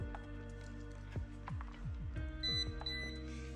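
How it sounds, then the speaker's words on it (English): A smoke alarm gives short, high electronic beeps a few times over a busy background of clattering and rhythmic mechanical noise. "I know you hear the beeping, that's the smoke alarm"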